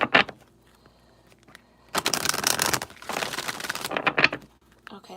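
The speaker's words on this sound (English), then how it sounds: "Okay, last shuffle." Tarot cards are shuffled close up in two quick riffling bursts separated by short pauses, crisp and papery, with a brief tap at the end.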